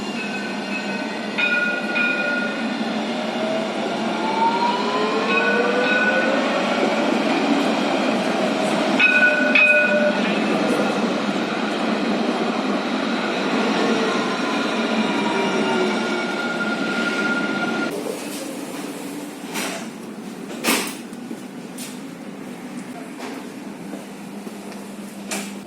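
A Casablanca tram ride heard from inside the car, with a continuous rumbling roll, rising and falling motor whine and wheel squeals, then quieter rattling and clicks as it slows, loud and close throughout.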